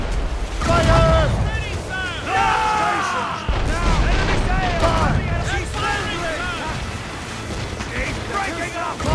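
Ship cannons boom in Assassin's Creed Rogue, heavy broadband blasts repeating across the clip amid wind and sea noise, while crew members shout over the gunfire.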